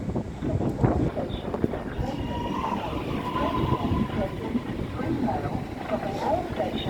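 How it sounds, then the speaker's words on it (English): A Metro train rumbles steadily past at moderate distance at Caulfield Station, Melbourne, a continuous low rolling noise with wind buffeting the microphone and faint voices in the background. "we can see we've got a Frankston bound train there"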